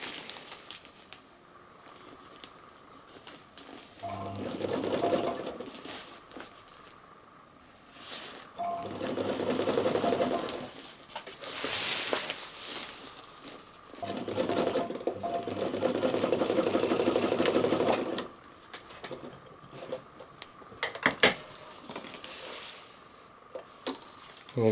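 A sewing machine runs a fine rolled hem around the curved edge of a utility bag in three steady bursts of fast, buzzing stitching, with softer handling noises and pauses between them.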